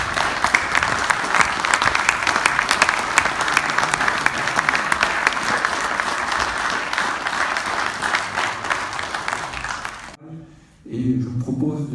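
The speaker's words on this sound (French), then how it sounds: "je vous propose de, à nouveau de les applaudir tous une dernière fois" A large audience gives sustained, loud applause at the close of a regional event in the Loire Valley, dense and even for about ten seconds, then cuts off abruptly, followed by a brief voice.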